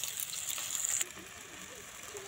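Jackfruit fritters sizzle in hot mustard oil in a wok, a close, steady hissing crackle that flares briefly and then settles into a quieter, even fry.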